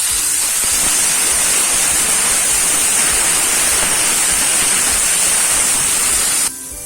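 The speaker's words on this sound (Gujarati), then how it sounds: "હવે આપણે પાણી ઉમેરીશું" A few spoonfuls of water hit a hot pan of cooking carrots, setting off a loud, continuous steamy hiss that holds for several seconds before cutting off abruptly.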